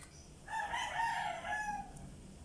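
A rooster crows once, a drawn-out cock-a-doodle-doo heard at moderate distance over a steady background hiss.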